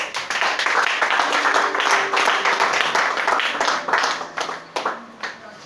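Church congregation clapping through a worship service, a dense, steady wash of applause filling the room, with a voice briefly audible over it and the clapping thinning toward the end.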